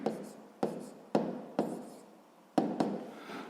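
Chalk or marker strikes and scratches on a classroom board as numbers are written, several sharp taps each followed by a short scrawl, close and fairly quiet.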